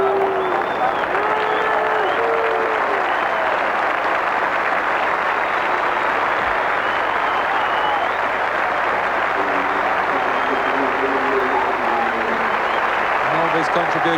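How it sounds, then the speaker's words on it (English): A stadium crowd at a football match applauds a player, a steady roar of clapping that fills the whole stretch with no pauses. "Mulby's contribution acknowledged by the crowd."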